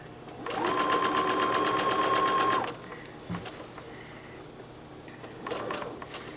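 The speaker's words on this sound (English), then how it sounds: "right now we're just sewing along the smooth part of our material and removing our pins as we go" A sewing machine stitches along smooth dress fabric in a fast, even whir for about two seconds, then stops. A brief second burst of stitching follows later, close up, with no voices.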